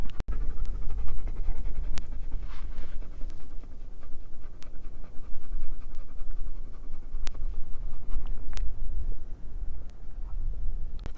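A tired dog pants steadily and close, with quick rhythmic breaths and wind noise on an outdoor hillside walk, no talking.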